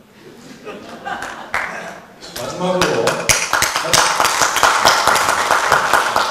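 An audience at a by-election candidates' debate breaks into applause that builds into a dense, steady round of clapping, with a voice speaking over it.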